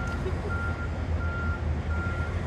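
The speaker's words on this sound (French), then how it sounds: "Les camions et tout, ils font tout en marche arrière, les camions." Trucks backing onto a ferry between La Paz and Mazatlán, a distant reversing alarm beeping in a slow regular rhythm over a low rumbling engine and ambient noise.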